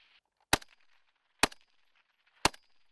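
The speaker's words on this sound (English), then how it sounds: "maintain suppressing fire on that target" Three sharp, loud rifle shots ring out about a second apart during live-fire military training with US Marines and Australian soldiers, each crack followed by a brief echo against a quiet background.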